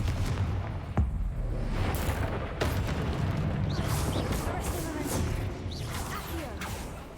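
A Confringo blasting spell goes off in Hogwarts Legacy, adding crackling blasts and sharp impacts to a rumbling battle din while a voice talks over it.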